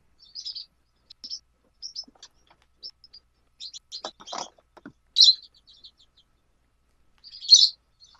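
Pet birds chirp indoors with short, sharp, high tweets scattered irregularly, some louder calls standing out near the end, close by in a quiet room.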